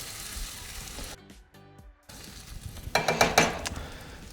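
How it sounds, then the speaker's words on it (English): Homemade pizza sauce cooking in a pan on low heat, a soft bubbling sizzle that cuts out for a moment and then returns with a brief clinking stir, close and fairly quiet. "The heat's on low, so it's gonna be able to simmer."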